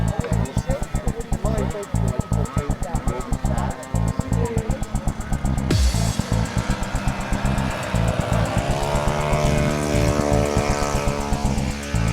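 A small radio-controlled float plane's propeller engine whines steadily and loudly, with a sharp shift in pitch partway through as it passes, under faint background voices.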